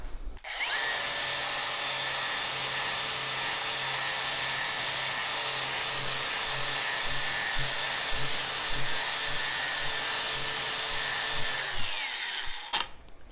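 A Norton abrasive disc on a power tool grinds rust off steel, a loud sustained whine starting abruptly and running steadily for about eleven seconds before cutting off.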